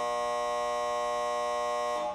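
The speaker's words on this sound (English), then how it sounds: "So that buzzer means that is all the time we have for our post-game roundup." A steady, loud electronic buzzer sounds continuously to mark the end of a sports talk show segment, then cuts off abruptly, alone without speech.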